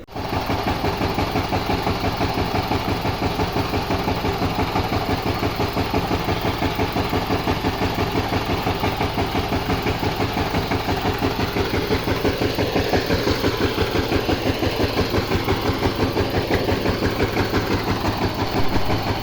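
A second-hand power tiller engine idles steadily and loudly up close, a rapid even chugging that holds without change for the whole stretch with no voices.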